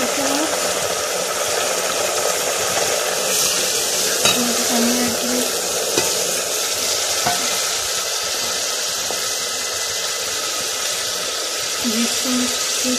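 Water is poured into browned onions and garlic in a hot pan while a kadhi is cooked, giving a steady, close sizzle with stirring scrapes throughout.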